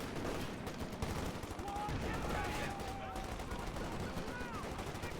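Rapid rifle and machine-gun fire in a Company of Heroes 2 multiplayer battle with Sherman tanks, a dense continuous crackle of shots under explosions and game effects, steady and busy throughout.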